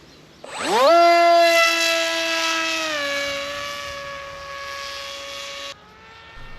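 The Falcon, a small electric RC model airplane, spools up its motor with a rising whine that holds loud and steady, easing slightly lower as it flies, then cuts off sharply, close to the recorder.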